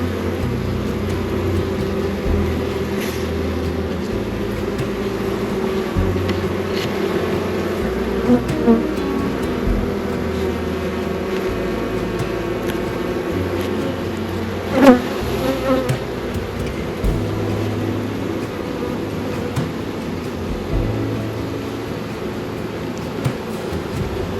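Many honeybees buzz in a continuous, dense drone close by while a package of bees is installed in a top bar hive, with occasional brief louder buzzes as individual bees pass near.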